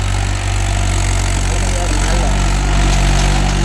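A Mahindra 575 DI tractor engine idles loudly and steadily up close, a smooth, even low diesel rumble that holds without a break for the whole clip.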